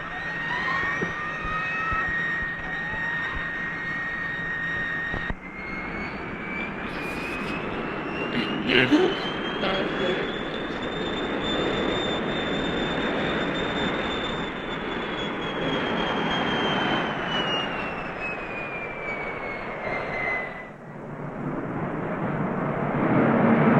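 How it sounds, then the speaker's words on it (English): A TWA Lockheed Constellation airliner roars past in a flyby, a loud sustained engine drone with a rising then falling whine as it approaches and recedes, lasting most of the clip before dropping away. "And then we're going to fly by with the afterburner on."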